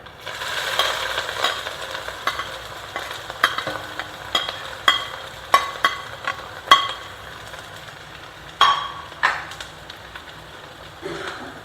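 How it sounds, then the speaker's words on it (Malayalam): Ginger sizzling and frying in hot oil alongside mustard seeds, dried red chillies and curry leaves for a Kerala ginger pickle, a steady close crackle broken by sharp clinks and scrapes of stirring, with no voices. "നമ്മൾ ഇഞ്ചി വറക്കാനിടുക കേട്ടോ."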